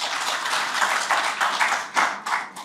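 Applause from the audience at a book presentation ceremony, a steady wash of many hands clapping at moderate level, swelling in periodic surges, with no voices over it.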